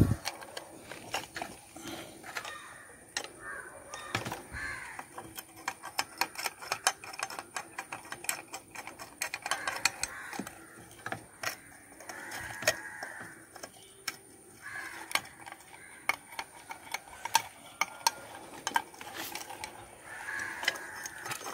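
A bolt is tightened on a bicycle head bearing, giving a long run of sharp metallic clicks and ratcheting ticks at an uneven rhythm, close by and moderately loud.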